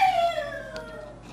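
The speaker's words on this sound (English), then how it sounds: "hopefully you don't mind the dogs having their nightly howl." Dogs howl at night in a long, sliding, mournful wail that starts high and falls slowly, fading out over a quiet background.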